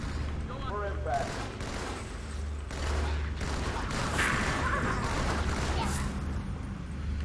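Rapid assault or battle rifle fire in an original Xbox game, repeated bursts of shots over several seconds with a voice talking over part of it.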